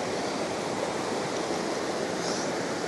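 River water rushing steadily over rocks at the Rock Lemon campsite in Negeri Sembilan, a constant broadband roar close by with no pauses and no voices.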